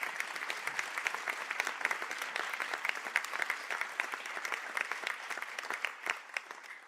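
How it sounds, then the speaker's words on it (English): Sustained applause fills a hall at a college conferring ceremony as biomedical science graduates stand, a dense steady wash of many hands with no gaps. "I now ask the graduates of the Bachelor of Science in Biomedical Science to stand for a round of applause."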